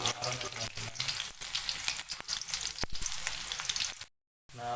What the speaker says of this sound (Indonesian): tunggu sampai bawang merah atau bawang putihnya matang ya